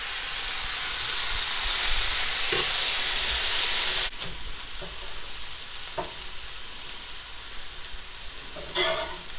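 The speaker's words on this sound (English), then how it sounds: "Be careful with your oil splatter, guys." Birria taco meat fries in splattering oil, giving a continuous close sizzling hiss with scattered small pops and crackles, easing slightly partway through.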